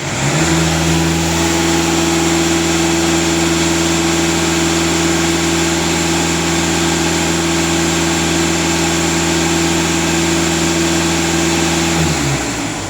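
Diesel engine of a VW TDI held at steady raised revs, a loud continuous droning hum with a strong low tone lasting about twelve seconds before dropping back toward idle, with no talk.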